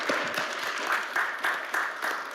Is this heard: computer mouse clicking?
no